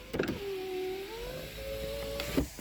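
An electric rear window motor in a Cadillac DeVille with an intermittent fault whirs steadily for about two seconds, its pitch shifting slightly, bracketed by clicks at start and stop.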